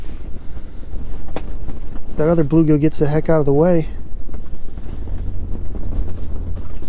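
Gusty wind sweeps across a frozen lake during March ice fishing for bluegill, a steady low buffeting rumble that runs under someone speaking throughout.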